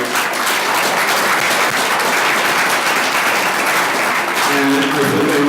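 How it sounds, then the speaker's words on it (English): A forum audience gives the candidates a steady, dense round of applause that fills the room at close range and holds at full strength for several seconds without letting up. "a round of applause for everybody"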